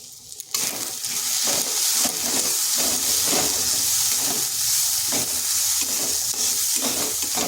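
Spatula stirring turmeric, cumin, coriander and chili powders into spinach and red lentils frying in a pan, a steady close sizzle and hiss with repeated scraping strokes, no talking.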